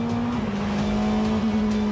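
Porsche 919 Hybrid race car droning with a steady high engine tone that dips briefly in pitch, loud and close throughout, with no talk.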